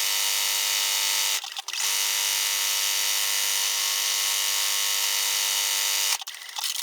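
A sewing machine runs steady zigzag stitching to appliqué a wallpaper-print inset onto background fabric for a quilt block, a continuous close whirring hum broken by two brief pauses, with no talking.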